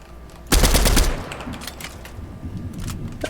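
Rapid automatic gunfire in a shooter video game bursts out loudly after a short quiet lead-in, a dense volley lasting about half a second before trailing into scattered softer shots.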